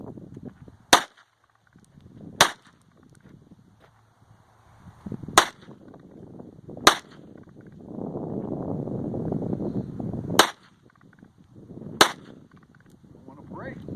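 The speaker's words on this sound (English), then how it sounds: "Dad's gonna shoot it." Outdoor target shooting with six sharp, loud gunshots spaced a second or few apart, with wind noise and a stretch of rushing background sound between them.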